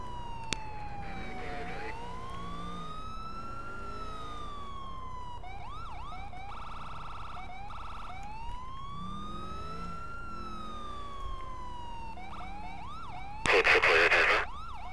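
A Whalen Corporation patrol vehicle in GTA IV wails its siren in long rising and falling sweeps, broken by short yelping bursts, steady and prominent, ending in a loud, harsh burst of noise.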